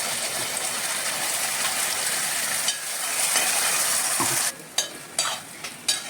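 Ground masala paste frying in oil in a pan, a steady loud sizzle and crackle with no talk, fading near the end into a few stirring scrapes.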